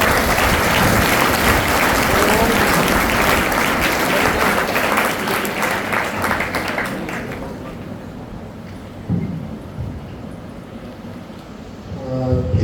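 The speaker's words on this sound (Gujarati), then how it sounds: "તાળીઓના ગગડાટથી વધાવીએ" Loud, dense applause at a high school admission festival welcomes a guest onto the stage, sustained for several seconds before thinning out and fading, with a few scattered claps and faint voices near the end.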